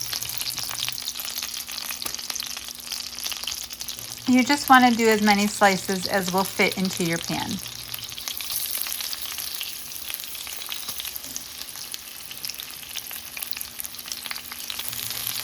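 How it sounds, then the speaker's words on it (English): Steady frying sizzle of potato slices in hot butter in a skillet throughout, with a person talking over it in the middle; the hiss stays constant and close. "Lay your potato slices right into the sizzling hot butter."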